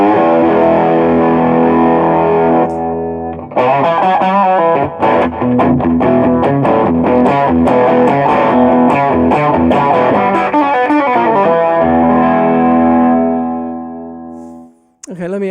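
Electric guitar run through a pedal board with the gain cranked up, a thick distorted, effects-laden wash of chords and notes with hiss and buzz, loud and close, fading out at the end.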